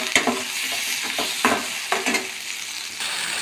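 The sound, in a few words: spice masala with tomato frying and being stirred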